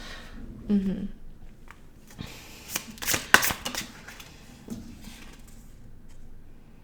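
Tarot cards handled and shuffled in a few soft papery riffles and taps near the start and middle, quiet and close, with a voice speaking lightly under parts of it.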